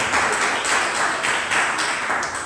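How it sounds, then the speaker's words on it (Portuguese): During an evangelical church service, a congregation applauds in praise of the Lord. The clapping is steady, dense and moderately loud, with a faint voice and little else over it. "Você pode aplaudir ao Senhor para a gente falar?"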